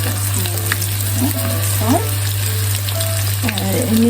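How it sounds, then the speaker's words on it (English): Tenderised, hammered beef frying in hot oil, a steady close sizzle with scattered pops and crackles and the occasional scrape of stirring throughout. "Let's need to now fry it and just get the oil, heat or oil up."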